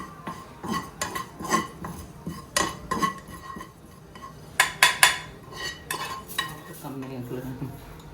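Cumin seeds are dry roasted in a pan, heard as a spatula repeatedly scraping and clinking against the metal in uneven strokes, with faint sizzling and a brief murmur of voices near the end.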